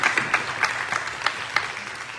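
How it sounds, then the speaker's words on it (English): Audience applause at a mayoral debate at FSU, a light, steady patter of clapping from a moderately sized crowd, with a few sharper individual claps standing out, heard alone without talk. "I think they deserve a round of applause."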